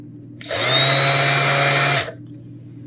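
A DeWalt cordless sander spins up for about a second and a half, a loud, close, steady whirring hum with a high whine that starts and stops abruptly.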